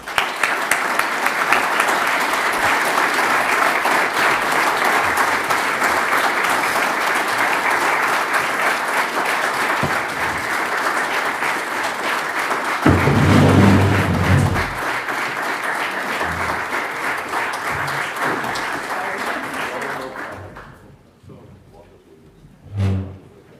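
A large audience applauds loudly after a speech on Europe, in sustained even clapping for about twenty seconds, then it dies off into near quiet with one brief sound at the close.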